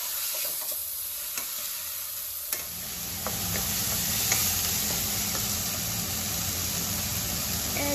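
Tomatoes frying in a pan for kofta curry, quiet at first with a few clinks, then a steady louder sizzle from about midway, with no talk.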